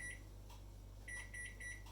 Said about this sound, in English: Put the bowl into the microwave and just get it warm.